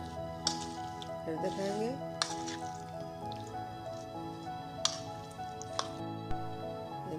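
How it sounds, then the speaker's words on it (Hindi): Spice masala is worked by hand into raw chicken for Shinwari chicken biryani, giving faint, wet squishes and soft drips while a person talks over the mixing. "ये मसाला हम सब चिकन के ऊपर लगाकर आधे घंटे के लिए हम छोड़ देंगे। इसको हमने अच्छी तरह मिक्स करना है।"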